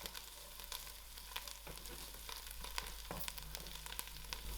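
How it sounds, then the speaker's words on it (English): Mustard seeds and cumin frying in hot oil for a spicy loki dhal, a steady faint sizzle dotted with small pops and crackles throughout, close up with no talking. "Lastly, I'll add in my mustard seed and allow it to pop."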